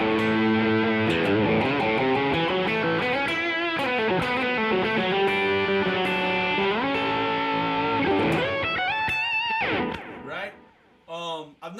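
An electric guitar played through a Wampler Stride pedal with no reverb rings out in sustained, gritty chords and melodic lines, loud and continuous before trailing off near the end.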